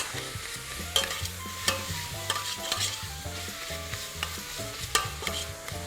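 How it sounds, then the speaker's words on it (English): Chilli mince browns in a pan while a spoon keeps pushing it around, making repeated close scrapes and clacks over a constant sizzle. Faint music plays in the background, and no one talks. "we're wanting to actually start moving that mince around"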